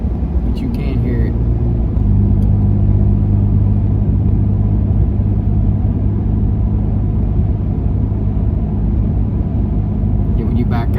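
A Ford F-150 fitted with a Flashark cat-back exhaust idles around 2,000 RPM, giving a loud, steady low rumble throughout, with brief ticking noises at the start and end.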